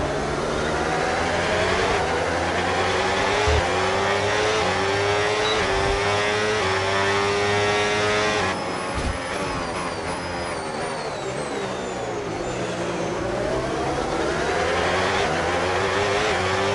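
Formula 1 race car engines in the F1 26 video game, China circuit, a loud continuous high-pitched whine rising and falling with gear shifts, with another car's engine sweeping past alongside.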